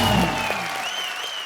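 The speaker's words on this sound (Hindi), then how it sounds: "शाहरुख भाई के लिए जोरदार तालियां" A television comedy show studio audience bursts into loud applause for a celebrity guest, dense clapping that starts strong and slowly thins out over a moment.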